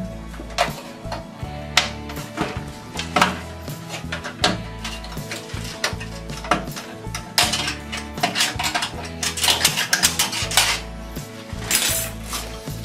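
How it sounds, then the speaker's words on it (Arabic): A graphics card going into a PC case during a computer build, with repeated close metallic clicks, taps and scraping knocks in an irregular rhythm, loud and near. "وأركب كرش الشاشة أو كارت الفيجا بالشكل ده"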